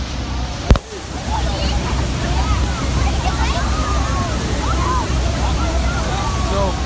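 Niagara Falls roaring in a steady, dense wash of falling water heard up close from a boat, loud and unbroken, with a brief knock near the start and a voice faintly in the mix.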